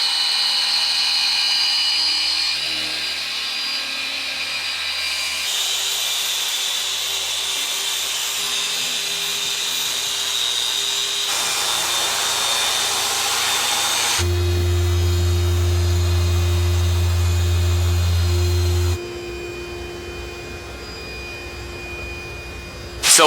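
A machine polisher corrects the paint on a Tesla P100D, a continuous high whine and motor hum that shifts pitch and intensity over time, with a deep droning tone midway and no talk.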